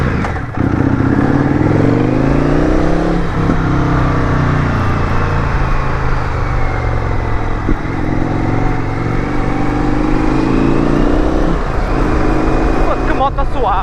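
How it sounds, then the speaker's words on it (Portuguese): An Indian FTR motorcycle with an RSD Super Hooligan setup revs loudly while riding over cobblestones, its engine pitch climbing and dropping continuously, with a rider's voice partly audible over it. "Que moto suave, meu, fogo."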